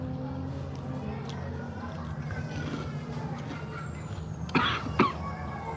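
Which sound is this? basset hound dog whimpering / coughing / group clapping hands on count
coughing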